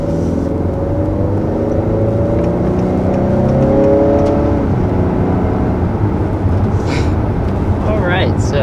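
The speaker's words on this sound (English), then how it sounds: "So there's our first acceleration in the 2-liter turbo Honda Accord." A 2020 Honda Accord with a 2-liter turbo engine accelerating hard, a steady loud engine drone rising in pitch and then settling, with tire and road noise heard from inside the car.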